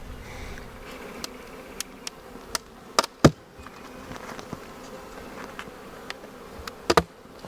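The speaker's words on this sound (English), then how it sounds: "These bees act like they don't like me." Honeybees swarm around an opened, defensive hive, making a soft, continuous buzzing hum broken by scattered sharp clicks and knocks from the hive being handled.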